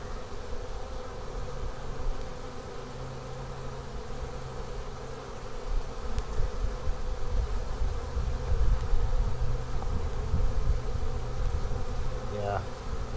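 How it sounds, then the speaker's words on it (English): Bees buzz steadily inside a moldy beehive holding capped brood and eggs, a dense, continuous close drone with individual insects flaring louder now and then. "So yeah, there's bees in here."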